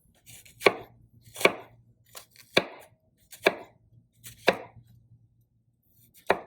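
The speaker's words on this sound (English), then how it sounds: "we're gonna make some slices, only about 3/4, a little more than 3/4 of the way through the onion" Knife slicing an onion on a cutting board: seven crisp, evenly spaced chops about a second apart, close and clear against near silence.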